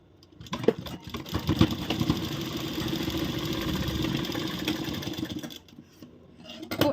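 A sewing machine runs a continuous seam on the reverse side of a princess-cut blouse, starting with a few short bursts and then holding a steady, close whirring rattle for several seconds before stopping, with a brief restart at the end.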